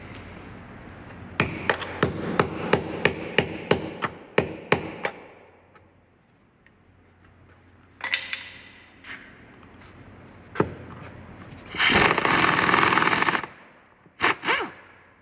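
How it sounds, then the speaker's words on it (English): Close, sharp hammer blows on a parking brake cable part of a 2013 Kia Sorento, in a quick run of about a dozen evenly spaced strikes, then a few scattered hits, a burst of scraping noise and two final knocks. "I'm gonna have to hammer that one on."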